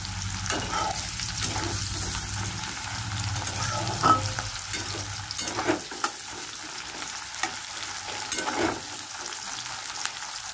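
Hot oil spatters and crackles as onions and garam masala fry in a pan for doi katla, a steady sizzle with scattered sharp pops and a few utensil knocks.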